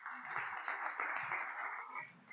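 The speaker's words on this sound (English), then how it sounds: "one more round of applause for all of our presenters tonight" An audience applauds presenters at an evening event, a muffled, steady patter of clapping that stays fairly faint and even, with no pauses.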